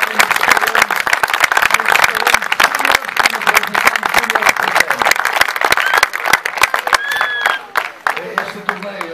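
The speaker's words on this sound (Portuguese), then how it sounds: "E pediam salva de palmas para ele." Sustained applause at a Portuguese youth football tournament event, with dense clapping from a large crowd that stays loud throughout and voices mixed in.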